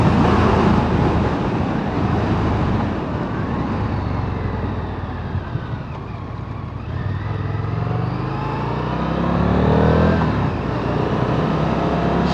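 A 2023 Indian FTR1200 motorcycle is ridden along a country road in standard mode, a steady loud engine drone with wind rush that swells and eases gently as the throttle shifts.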